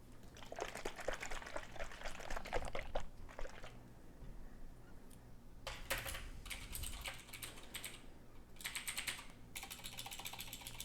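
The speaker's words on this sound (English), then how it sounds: "Me tapping on my keyboard." Quiet bursts of tapping on a computer keyboard come in a few separate runs with pauses between them, picked up in a room with a faint steady background hum.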